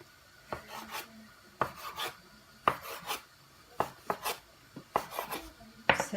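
Brioche dough being portioned into small pieces on a work surface, heard as a close series of about ten sharp, crisp cutting and scraping strokes at an uneven pace, with no talking.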